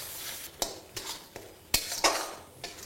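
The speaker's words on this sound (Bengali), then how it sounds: "সব কিছু মশলাকে একবার ভালো করে আপনাদের কষিয়ে নিতে হবে" Ground cumin and coriander being stirred in a pan for a fish curry, heard as a quiet, soft fry with several distinct metallic scrapes and taps of a spatula against the pan.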